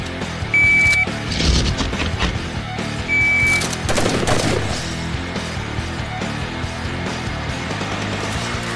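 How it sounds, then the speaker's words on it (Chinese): Special forces soldiers fire rapid-reaction shots at randomly appearing targets: loud, quick volleys of gunfire crack through the first few seconds, then fade into steadier background noise. "接下来他们将对同一组随机出现的目标进行射击"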